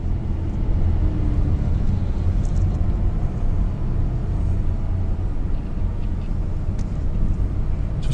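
Steady low engine drone and road rumble inside a Honda Clarity plug-in hybrid while driving, holding around 2,000 RPM at an even, constant level with no talk.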